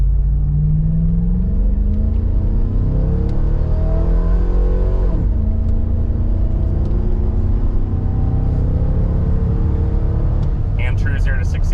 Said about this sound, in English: 0 to 60 in the H2 Hummer.